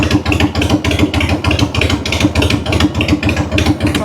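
A Harley-Davidson Evo V-twin motorcycle engine idles loudly and close by with a steady, lumpy rhythmic pulse, running sluggishly while its ignition timing is being adjusted.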